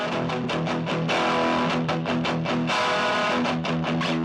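An electric guitar played through a Proco Rat distortion pedal into a tiny 5-watt Vox amp gives a thick, fuzzy distorted tone in loud rhythmic chugging strums with sustained chords between, with no voices.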